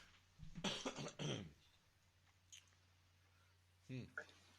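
A person with a bad cold coughs in a short hacking cluster close to the microphone, then falls quiet, and a second smaller burst of coughing follows a few seconds later in a quiet room.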